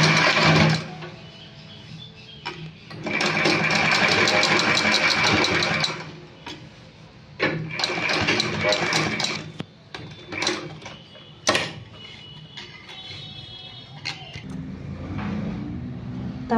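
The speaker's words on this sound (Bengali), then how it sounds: "তো সোজা চাপ সেলাই আমি এবার দিয়ে নিচ্ছি" An electric sewing machine runs straight top-stitching in several bursts of rapid, even whirring, with short pauses and clicks between runs as the fabric is repositioned, close and fairly loud.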